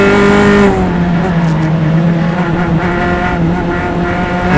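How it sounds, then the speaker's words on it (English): A pack of FE2 single-seater race cars sweeping past at Mid-Ohio, loud overlapping engine notes close by, pitch dropping as they go through, no talk. "And then we see this other FE2 group of cars. They come through."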